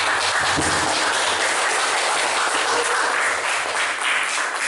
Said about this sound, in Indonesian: Boleh tepuk tangan yang luar biasa untuk kita semua.